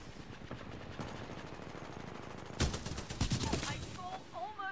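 Bursts of Spitfire LMG fire from the Titanfall 2 shooter game ring out amid busy gameplay noise, with a loud rapid volley in the second half over ongoing battle sounds.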